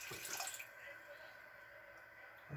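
Liquid from a bitters infusion is poured off, a faint trickling and splashing heard mostly in the first half-second, then settling into a quiet drip-like hiss.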